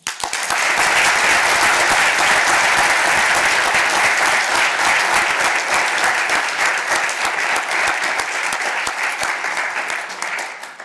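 Loud, dense applause from a large crowd at a Model United Nations opening ceremony in the Jakob-Kaiser-Saal, steady clapping sustained for about ten seconds before tapering off at the end.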